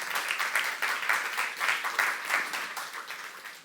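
A church congregation at a youth service breaks into dense, lively applause, many hands clapping at once, then gradually thins and fades toward the end.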